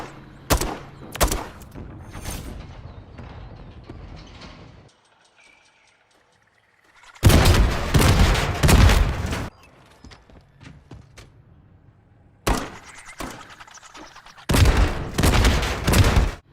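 Grenade launcher fire in Modern Warfare III rings out in repeated loud bursts of thumping shots and explosions, separated by a near-silent gap, with little talk.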